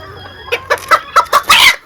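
A mini bantam (garnisé) chicken clucks nearby, giving about six short, loud, evenly spaced clucks that end in a longer, harsher call, with no talk over it.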